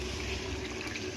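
Tamarind juice is poured into a pan of simmering Andhra-style fish curry, making a steady, continuous liquid pouring and splashing sound at moderate level, with no one talking.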